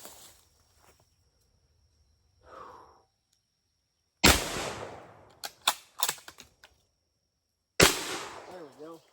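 A Sears & Roebuck Model 101 20 gauge shotgun with a full choke fires at a can about 12 yards away, giving two sharp loud blasts several seconds apart, with short clatters and handling noises between them and a faint voice before.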